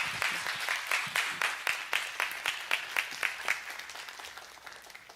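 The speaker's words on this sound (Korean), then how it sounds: "다시 한번 큰 박수로 모시겠습니다." An audience claps together, loud and close, with a pulsing rhythm that gradually softens toward the end.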